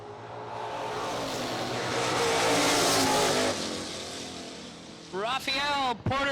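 Bracket drag racing cars roar past at a race event, a broad engine rumble swelling and fading over several seconds, with a Camaro in the right lane; a commentator's voice comes in near the end.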